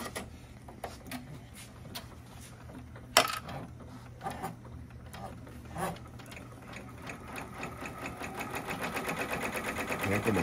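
A Brother PR600 embroidery machine stitching steadily, a rapid close mechanical ticking and whirring that runs continuously and grows slightly louder toward the end, with one sharp clack early on.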